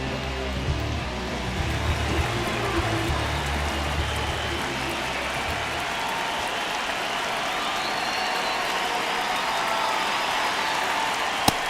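Steady roar of a baseball stadium crowd in the video game MLB The Show 26, a broad continuous wash of cheering and murmur with no talk over it.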